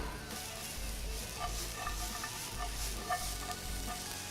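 Carrots and spices sizzle in a pan, a soft, steady hiss with faint crackles and a few light stirring knocks, close but quiet.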